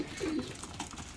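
A racing pigeon gives a short, low, throaty coo close by in a loft, a single soft rolling call followed by faint ambient rustle.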